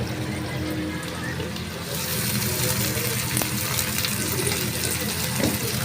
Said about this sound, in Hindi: एक बड़ा आकार का प्याज काटकर हम इन प्याज को भी इसमें हल्का गुलाबी होने से पहले ही भूनेंगे